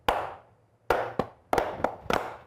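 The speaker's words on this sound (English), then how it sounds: "You know why I'm clapping?" A single person claps hands in a television studio, sharp separate claps in short uneven bursts with quiet gaps between, close and clear.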